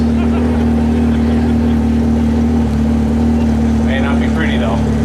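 A 1,200-pound modified lawn tractor's engine drones loudly and steadily, like a close, sustained roar, at a truck and tractor pulling event. Brief crowd voices break in near the end.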